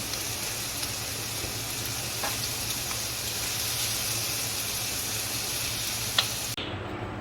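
Half-boiled tomatoes fry in a pan with a steady, close sizzle that holds evenly for several seconds before cutting off sharply near the end.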